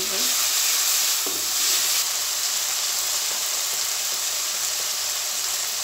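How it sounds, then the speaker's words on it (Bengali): Garlic and ginger paste sizzles and fries steadily in a pan while being stirred, a continuous close hiss with faint scraping throughout. "এগুলোকে একটু ভালো করে নেড়ে নেব।"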